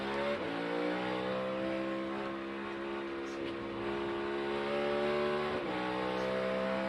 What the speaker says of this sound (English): you hear him feather that throttle through turn 2